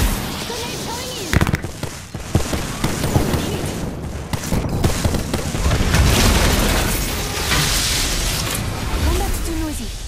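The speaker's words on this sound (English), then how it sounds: "Grenade coming in!" A grenade explodes in a shooter video game, with heavy booms and bursts amid chaotic loud combat noise, and voices talking over the din.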